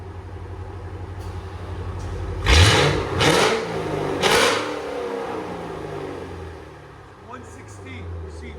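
2006 Ford Mustang GT with a 4.6L V8 and Valvetronic Designs mufflers opened, rumbling close and loud at idle and then giving three sharp rev blips before settling back down.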